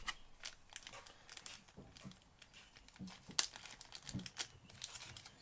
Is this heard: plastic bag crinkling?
yes